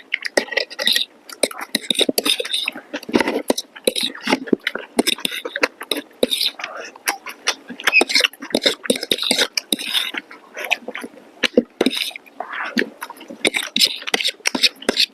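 Eating Chicken Manchurian and egg pasta with a spoon at an eating competition: rapid, close spoon scrapes and cutlery clinks on a plate, mixed with chewing under ongoing talk.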